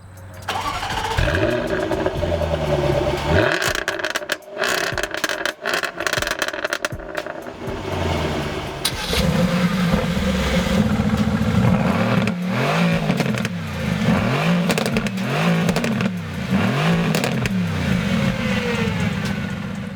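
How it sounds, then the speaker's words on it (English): Powerful sports car engines, a 2016 Jaguar F-Type R and a 2016 Mercedes-AMG GT S, start and rev in sharp bursts, then settle into a deep, rumbling idle punctuated by repeated throttle blips, close and loud. "which car sounds better, the low and rumbling Mercedes AMG GTS or that rude and raspy F-Type"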